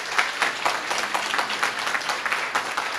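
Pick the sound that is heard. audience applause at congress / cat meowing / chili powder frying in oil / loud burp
audience applause at congress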